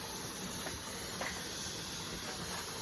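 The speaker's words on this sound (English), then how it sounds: "So right now there's steam, but it's not noticeable steam." Steam hissing steadily from a pressure canner during home canning of pork and beans, a constant close, broad hiss with faint faster bursts, no voices.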